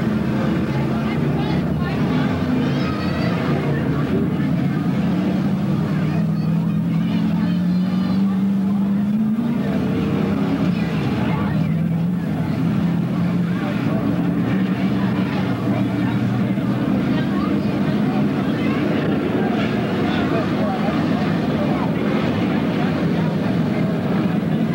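Semi late model race cars run a heat at Bedford Speedway, a loud continuous engine roar that rises and falls as the pack passes, with a commentator's voice over it.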